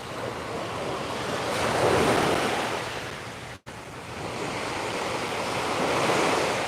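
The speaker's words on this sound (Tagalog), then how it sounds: "Malaki pa ng alon." Big ocean waves roll and crash in a continuous loud roar of surf mixed with wind buffeting the microphone, with a brief dropout partway through.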